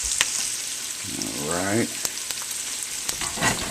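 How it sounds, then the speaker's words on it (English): Onions sizzle and fry in a pan as they caramelize, a steady soft crackle and hiss under a brief spoken word. "Onions are coming along pretty good. I want to get them good and caramelized."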